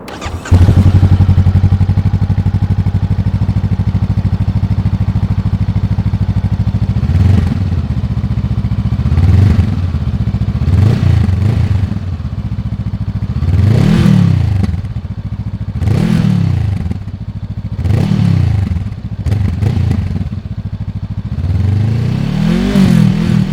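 A 2023 Honda Rebel CMX500 SE rides past close and loud, its engine droning steadily while it revs up in repeated swells, alongside clattering and thumping from the road.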